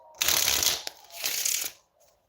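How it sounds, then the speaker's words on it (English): A deck of playing cards is shuffled by hand in two quick riffling bursts, close and crisp, followed by a faint soft tap. "Sometimes I like to just mess around and just shuffle the cards"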